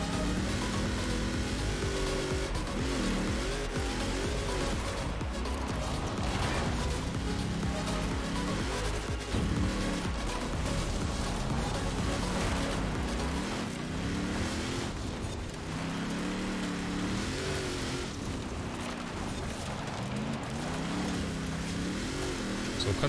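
Car engine at full throttle in Forza Horizon 4, revving up repeatedly with rising and falling pitch sweeps at each upshift, loud and continuous throughout with no talking.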